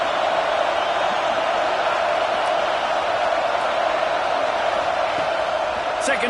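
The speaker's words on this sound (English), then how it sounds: "this crowd trying to help keep them there" A College Football 25 video game stadium crowd sends out a steady roar for the whole stretch, loud and unbroken, with a brief whoop near the end.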